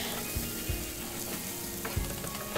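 Fish roe and zucchini fry in a pan with a constant close sizzle, while a spoon stirs and scrapes through the mixture in a few soft, irregular strokes; no voices.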